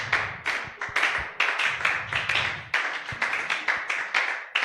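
A church congregation claps in rapid rhythmic bursts to acclaim the Lord, loud and close, with many hands striking together in uneven repeated waves and brief gaps between.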